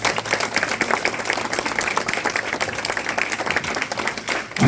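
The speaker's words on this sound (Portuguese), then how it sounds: "Aplauda Jesus." Congregation applauding in a church service, brisk dense clapping from many hands, loud and continuous with slight swells, no talk over it.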